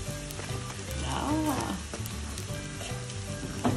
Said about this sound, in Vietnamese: Mình chiên cho nó giòn vậy á, nó rất là xốp cái bánh nó ngon